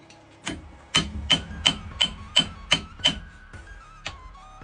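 A knife point strikes through a 3 mm steel sheet in a run of about nine sharp metallic blows, evenly spaced and ringing briefly after each hit, loud and close.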